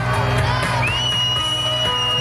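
A crowd at the Ceregnano fair cheers and whoops in a steady, loud roar that holds throughout, with a whistle-like tone rising through the noise and no clear speech.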